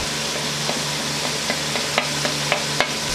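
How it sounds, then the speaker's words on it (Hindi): Potato and bitter gourd with red chillies, salt and turmeric sizzle steadily in a pan while a utensil stirs them, making several distinct scraping knocks over the constant frying hiss. "अब हम इसको अच्छे तरीके से मिक्स कर फ्राई करेंगे।"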